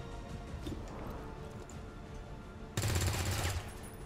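A soldier's weapon firing in the video game XCOM 2, one loud sudden burst near the end, following a stretch of quieter game ambience.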